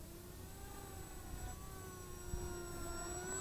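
Electric motor of an XK A1200 RC FPV glider with the throttle cut back, a steady whine with tones that slowly drift in pitch, continuous over a broad airy hiss.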